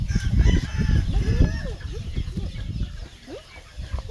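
Many chickens cluck and squawk close by on a chicken farm in Kampot Province, Cambodia, with several roosters crowing in overlapping calls, loud and busy throughout.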